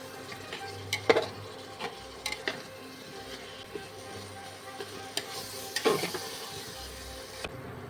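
Spices with tomatoes being sautéed in a pan for a chicken curry, with scattered stirring scrapes and soft clicks over a faint low sizzle, fairly quiet and without talk.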